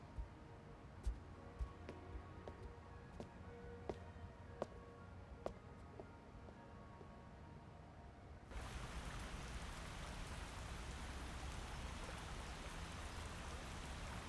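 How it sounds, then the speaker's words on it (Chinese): Rain falls in a Singapore TV drama scene. A faint, steady hiss grows denser partway through, with a few soft drips before it. "都下雨了，你还要出来走？"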